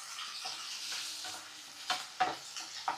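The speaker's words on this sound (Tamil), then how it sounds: "இது நல்லா வதங்கட்டும்." Onion and tomato frying in a pan for a simple chicken curry, a soft continuous sizzle with a few sharper scrapes and stirs toward the end, fairly quiet with no talking.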